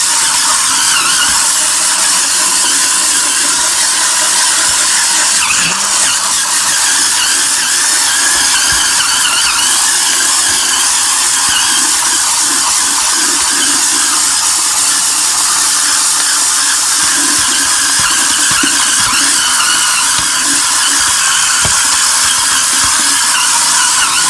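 A cordless Hurricane spin scrubber runs continuously, a loud steady high whine with a motor hum and wet scrubbing friction as the rotating brush works a surface, nearby and without speech.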